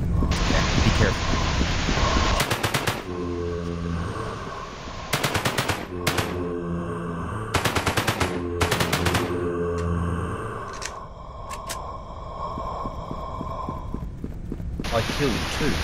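Enemies fire guns in the PC game Bunker's Shadow: several loud, rapid machine-gun bursts ring out close by against constant game ambience, and voices talk between the volleys.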